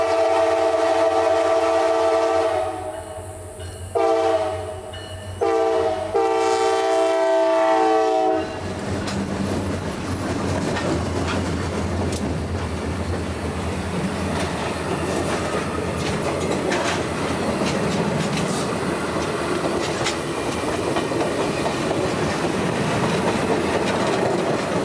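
An empty passenger train on a deadhead move climbs the hill at Homeland, Georgia, opening with a loud sustained horn blast, then a long steady rumble and rattle of passing cars.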